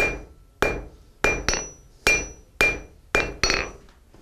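A blacksmith hammers hot iron on an anvil at a historic fort, with eight loud, ringing strikes at an irregular, steady working pace, some landing as quick doubles, each decaying briefly before the next.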